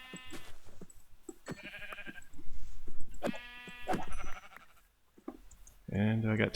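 Sheep bleat in a video game: several wavering calls, with the loudest and clearest one near the end, over a busy game soundscape.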